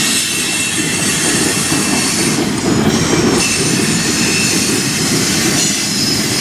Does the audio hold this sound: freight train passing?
yes